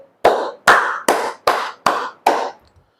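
Six sharp hand claps in a slow, even rhythm, loud and close, each with a short ringing decay, nothing else audible.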